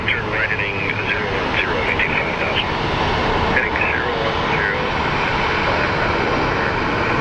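American Airlines flight 1707, a jet airliner, departing Sky Harbor airport, a steady loud engine roar filling the whole stretch with broadband rumble, while a person talks over it intermittently.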